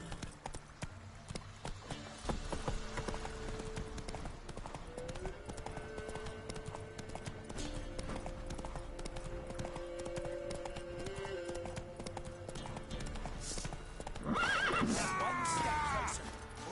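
Horse in the Witcher 3 video game galloping with steady clip-clop hoofbeats, then whinnying loudly near the end, over continuous background game sound.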